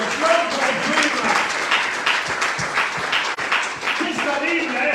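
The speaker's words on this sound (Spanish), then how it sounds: "Démosle un aplauso al Señor." A church congregation applauding, a dense, sustained wash of clapping from many hands filling the room for several seconds, with voices mixed into the crowd noise.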